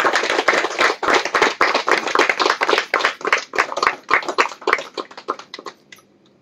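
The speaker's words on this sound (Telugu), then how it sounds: "గట్టిగా చప్పట్లు కొట్టండి" A crowd applauds loudly at close range, a dense run of hand claps that keeps an uneven rhythm and then tapers off into silence near the end.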